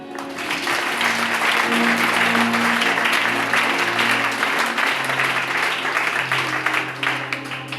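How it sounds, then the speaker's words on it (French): A church congregation breaks into sustained, loud applause lasting several seconds, a dense steady wash of clapping from many hands filling the room. "Acclame pour la parole."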